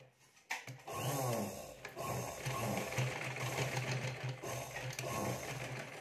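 A domestic sewing machine stitches blouse fabric up close, starting after a brief pause and then running in a fast, steady mechanical chatter with a rhythmic thumping hum, with small hesitations along the way.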